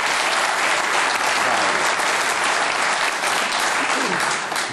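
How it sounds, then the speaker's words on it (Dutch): A studio audience at a Dutch talk show claps loudly and continuously, a dense steady wash of applause that fades slightly at the end. "APPLAUS."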